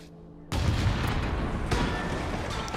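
A big explosion in the video game Infamous Second Son sets off a sudden loud boom, then a dense, sustained roar of debris and rumble that lasts to the end.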